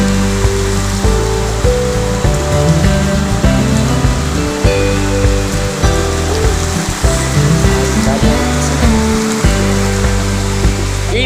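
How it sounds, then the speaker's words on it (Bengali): Heavy rain pours down in a Bangladeshi village after a storm, a loud, dense, unbroken roar of water on surfaces that lasts throughout with no voices. "দেখেন কি বৃষ্টি নামছে।"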